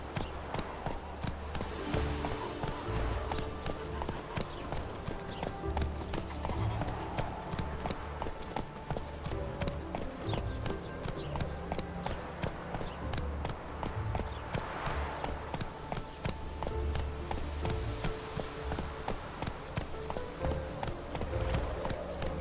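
Steady clip-clop of the horse Roach's hooves trotting in The Witcher 3, a continuous close rhythmic beat lasting throughout, with game ambience and occasional voices underneath.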